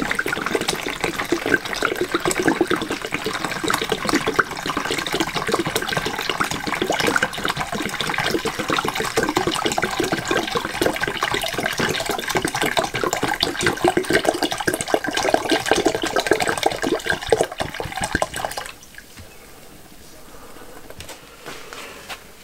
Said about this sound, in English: fill the container with vinegar.